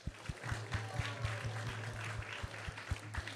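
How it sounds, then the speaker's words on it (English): Applause from an audience at a Sunday Feast Festival at a Hindu temple, heard as steady clapping, with a low hum and sharp thumps recurring at regular intervals underneath. "So let's give a big round of applause to everyone."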